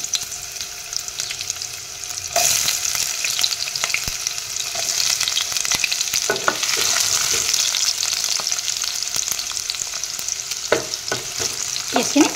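Onions drop into hot oil with cloves, cardamom, cinnamon and black pepper for a duck curry, a sudden loud sizzle that settles into steady close frying with occasional stirring knocks, no talk.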